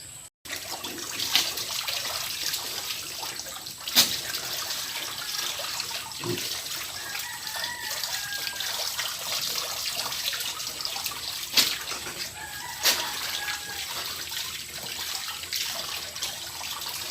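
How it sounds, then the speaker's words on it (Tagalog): Pigs on a hog farm drink from a waterer, with steady trickling and gurgling water, a few sharp clicks and soft grunts in a continuous wet background. "gustong gusto nilang uminom ng tubig"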